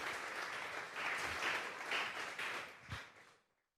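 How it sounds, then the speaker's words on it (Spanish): A church congregation claps their hands together in a sustained round of applause that swells and then fades out near the end, fairly distant and reverberant. "Vamos a regalarle una ofrenda de palmas al Dios de la gloria."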